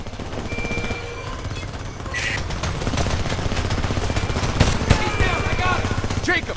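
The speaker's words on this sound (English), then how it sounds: "Shots on my position! Give me some covering fire!" Dense automatic gunfire rattles continuously in Homefront, layered bursts of rifles and machine guns with heavy, loud, close reports and a few sharper individual shots, under shouted battle voices.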